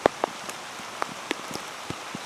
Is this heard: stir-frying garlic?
no